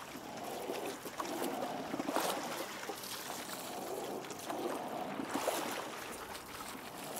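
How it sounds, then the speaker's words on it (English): A rowing boat glides through river water, with steady swishing and rippling of water against the hull and oars at close range, rising in soft surges with each stroke. "you're very conscious of the sounds of the water underneath you"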